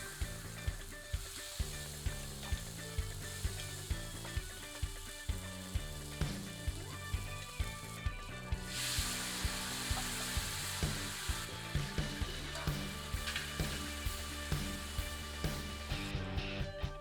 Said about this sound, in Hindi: इस काफरियल मसाले को अच्छी तरह भूनते हैं।